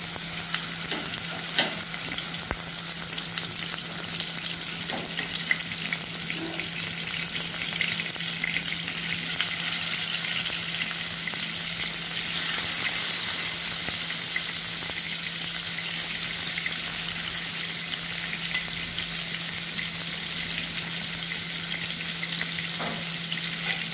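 Pieces of boal (wallago attu) fish frying in oil, giving a constant, dense sizzle at moderate loudness, with a low steady hum underneath and a few faint clicks.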